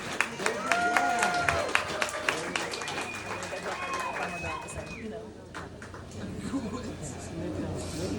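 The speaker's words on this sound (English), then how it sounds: "Big round of applause for their work." Applause and clapping from a crowd at a Virginia Leather title-holder step-aside event, a steady wash of hands with a few sharp claps and some voices and whistles mixed in, fairly loud throughout.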